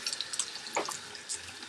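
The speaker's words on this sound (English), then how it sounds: "So go ahead and fill it up with water again and press it out" Tap water running into a sink while a beauty blender sponge is rinsed and refilled, a steady close splashing flow with small bursts throughout, no voices.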